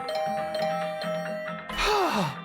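A doorbell chimes in the video game Hundred Line Last Defense Academy, a two-tone ding-dong ringing loud and close, followed by a falling tonal sweep.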